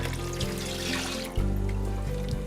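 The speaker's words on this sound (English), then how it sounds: "Now you want to go in with the coconut milk." Canned coconut milk poured into a pot of curried corn, a close, steady liquid trickle and glug with a brief dip midway, no talking.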